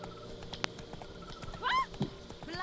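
A horse in The Witcher 3 game, a few scattered hoof clops and a short whinny over quiet game ambience, faint and brief.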